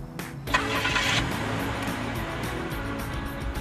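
A car engine cranks and catches with a sharp burst, then settles into a steady idle rumble that continues close by and moderately loud, with no talk over it.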